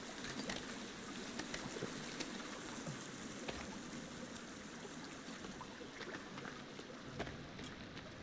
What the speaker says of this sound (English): Fucking loud ass waterfall.